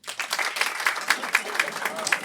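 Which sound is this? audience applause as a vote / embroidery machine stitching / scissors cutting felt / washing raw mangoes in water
audience applause as a vote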